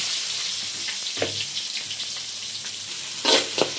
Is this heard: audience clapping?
no